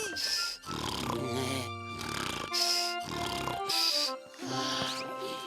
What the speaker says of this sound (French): Il ronfle vraiment fort, celui-là.